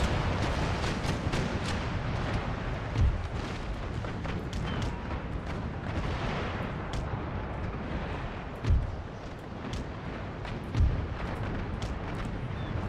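Naval ship cannons fire in Empire: Total War, with a few deep booms landing at intervals over a dense, continuous rumble of sea battle noise.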